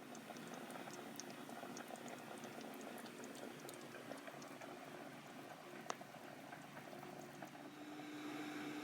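A pot of water boils for lasagna noodles, a quiet continuous bubbling and simmering with scattered small ticks and pops, steady and faint in a home kitchen.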